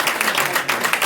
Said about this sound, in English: I think we ought to give her a round of applause.